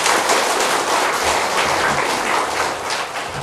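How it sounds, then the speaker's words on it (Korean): Church congregation at a revival meeting claps in thanks to God, a dense, loud burst of many hands applauding together that continues steadily before tapering slightly at the close. "우리 한번 하나님께 감사의 박수 드리겠습니다"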